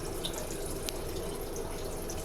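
Pink antifreeze runs steadily through the toilet of a 2012 Keystone Passport 3220 BH travel trailer, a continuous close splashing flow of liquid with no voices.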